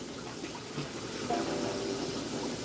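Water poured for making four cups of coffee, a steady rushing, splashing stream that holds at a constant level and swells slightly partway through, close by with no talking.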